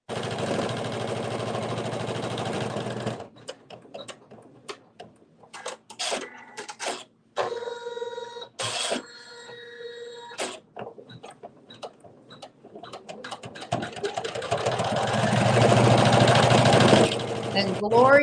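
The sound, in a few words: sewing machine stitching out a quilt bonus piece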